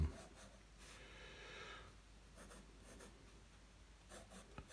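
Pen or pencil scratches across paper while a skateboard-style design is drawn by hand, soft and close, with quiet intermittent strokes and rubbing.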